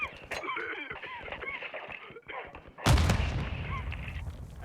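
Gunfire in Call of Duty Modern Warfare 2: sharp shots crackle over excited radio-style shouting, then one loud, close blast with a rumbling tail.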